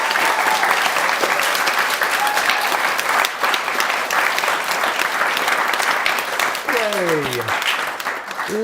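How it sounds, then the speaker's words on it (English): A room audience gives Kevin a big round of applause, dense sustained clapping and cheering filling the space loudly throughout, with voices audible in the crowd near the end. "let's give Kevin a massive round of applause."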